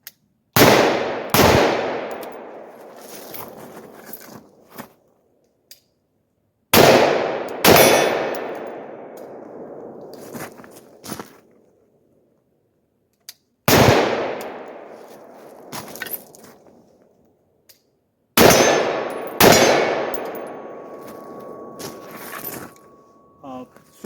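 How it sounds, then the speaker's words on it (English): AR-15 rifle with an ACOG optic and a pistol light fired at night outdoors, four loud sharp gunshots, some doubled in quick pairs, each spaced several seconds apart with a long ringing decay into silence. "So let's fire a couple of shots at the night."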